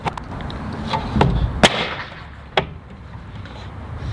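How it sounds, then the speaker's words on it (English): A plastic light cover insert snapping into a Tesla roof rack, heard as a few sharp, loud cracks like gunshots over low background rumble, with a fainter second snap following. "After sounding like a gunshot, that went on."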